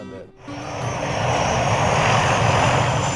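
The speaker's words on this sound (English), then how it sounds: "A flying tractor, the Mi-8 air transport." A Mi-8 transport helicopter engine drones loudly and steadily with a dense rotor roar, building after a brief dip at the start.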